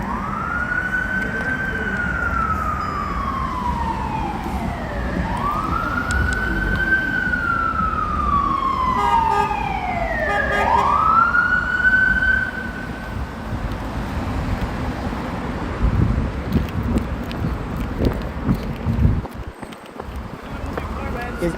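An emergency vehicle siren wails through several long rising and falling sweeps on a Los Angeles street at night, arriving at a scene, then cuts off, leaving street noise and the rumble of traffic.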